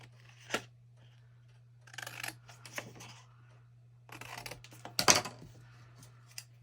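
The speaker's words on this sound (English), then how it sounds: "I think we might cut the ends of this." Scissors snip off the ends of a craft piece in a quiet room: a few separate crisp cuts with pauses between them, heard over a faint, steady low hum.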